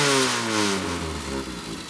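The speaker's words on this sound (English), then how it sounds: "Let me just go ahead and run the throttle a little bit." A Triumph Spitfire engine is revved with the throttle, a loud, close, continuous mechanical roar whose pitch slides down as the revs fall back.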